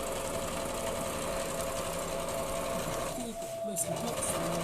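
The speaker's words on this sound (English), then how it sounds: "put that under the needle, and then you're just going to take a piece out and put it on the top like that, and sew until you get to the end of that." A sewing machine stitches quilting patchwork pieces, a steady close mechanical whirr running throughout, with people talking over it.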